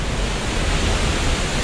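The Curug Seribu waterfall, about 100 meters tall, roars as a steady broadband rush of falling water, loud and close, with no other sounds breaking through.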